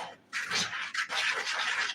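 Batter being stirred by hand in a bowl at home, a steady scraping and swishing that runs almost continuously after a brief pause, close and fairly loud with no talk.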